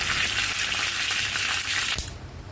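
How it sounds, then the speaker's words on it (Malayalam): Mustard seeds, cumin, curry leaves and dried red chillies sizzling in hot oil in a pan for rasam tempering, a loud steady close crackle that drops away after a brief clank near the end. "അടുപ്പത്തൊരു പാനിൽ എണ്ണ ഒഴിച്ച് ചൂടാക്കി 1/2 ടീസ്പൂൺ കടുകും 1/4 ടീസ്പൂൺ ചെറിയ ജീരകവും കുറച്ച് കറിവേപ്പിലയും 1-2 വറ്റൽമുളകും ഇട്ട് താളിക്കാം"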